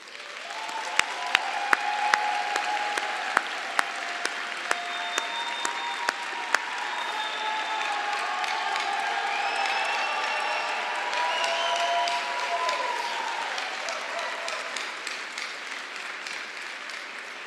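Audience applauding graduates at a college commencement ceremony, steady indoor clapping from a crowd of many hands lasting throughout, a few sharp louder claps standing out early on.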